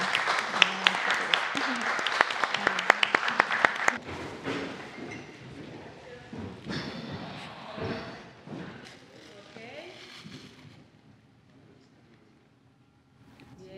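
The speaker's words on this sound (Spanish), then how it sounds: "Y un aplauso." An audience at a filmmaking talk applauds, a loud burst of sharp claps for about four seconds that then thins and fades while voices talk over the dwindling applause.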